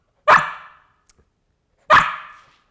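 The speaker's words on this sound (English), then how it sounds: "For some reason I didn't realize that meant a lot of barking." Two sharp, high barks from a 12-week-old Samoyed puppy ring out alone, about a second and a half apart, close and loud with quiet between.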